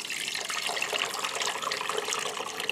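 Red wine braising liquid from short ribs is poured into a fat separator, giving a steady, close splashing and gurgling stream of liquid that runs throughout with no voices.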